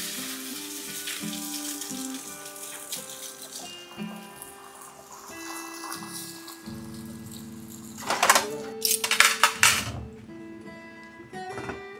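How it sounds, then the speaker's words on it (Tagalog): Eggs frying in a pan, a soft continuous sizzle with faint tonal background sounds, then a burst of louder clatter and crackle near the end. "Itlog lang naman po niluluto ko eh."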